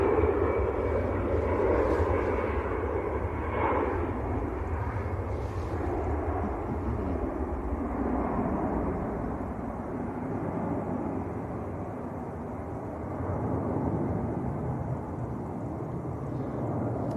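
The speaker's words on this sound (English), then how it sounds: "Another EasyJet on the roll on the other side." An EasyJet airliner bound for Lisbon takes off at Manchester Airport, its engines a loud, continuous low roar lasting throughout that swells slightly and then eases off.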